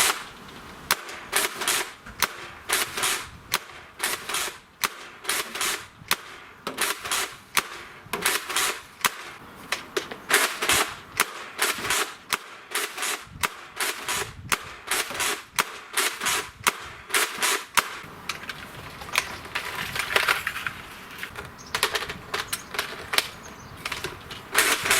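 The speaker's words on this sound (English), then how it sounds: "Let's go take it on the side and do a little firing demo in the range." Nerf Rival Atlas foam-ball blaster fired repeatedly on a range, producing a rapid series of sharp, close pops with brief gaps and pauses between bursts, each shot a crisp snap with mechanical clatter, no voices.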